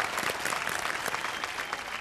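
A studio audience on a Hindi TV game show applauds in a dense, steady wash of clapping that carries at an even level throughout.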